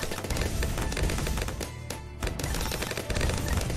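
Rapid cannon fire from towers in the Bloons TD 6 tower-defense game, a dense, continuous barrage of booming shots with a brief dip midway before the loud volley resumes.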